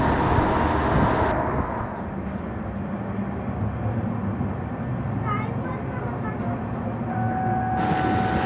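Pune–Sai Nagar Shirdi express train on its first run, cruising near 110 km/h, heard from inside as a loud, continuous low rumble and wheel roar with a brief hollow shift partway.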